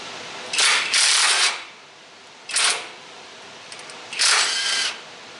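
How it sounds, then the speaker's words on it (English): Impact wrench bursts on the bottom nut of a car shock absorber during a coil spring replacement: three loud, close whirring runs, the first split into two quick pulses, separated by short quiet gaps. "Take your bottom nut on your shock off"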